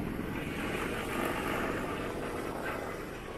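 Motorbike riding along a road in Vietnam, a steady broadband engine and wind roar held close and continuous, with no clear speech over it.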